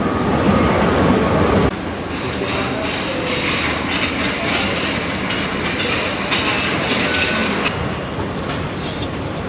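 A Bangkok MRT subway train sounds loud and close from inside the carriage, a continuous rumble and whoosh of the moving train with a sudden shift in the noise partway through and a brief higher squeal near the end.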